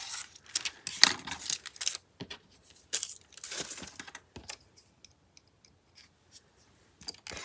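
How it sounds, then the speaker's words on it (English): A blade cuts through slippery glassine paper in scratchy, crisp strokes, busiest early on, then thins out to a few faint taps and rustles near the end. "So I think I will use a blade."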